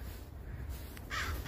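Crows calling close to their nest outdoors, a few harsh caws over steady background noise, with a louder call near the end.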